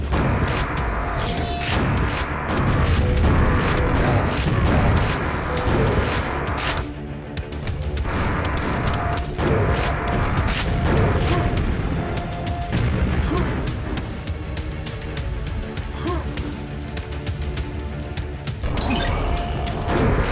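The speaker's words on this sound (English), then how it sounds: "I'll let the double barrel do the talking here." Double-barrel shotgun blasts in Quake, loud booming shots repeating in quick irregular succession over constant harsh game noise and clatter, with no talk.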